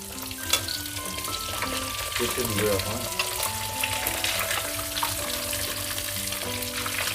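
Katla fish frying in oil, a loud steady sizzle and crackle close up, with soft stirring and a tonal melody playing in the background.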